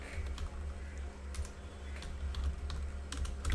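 Rapid tapping on a computer keyboard while text is entered, a quiet run of close clicks over a low steady hum.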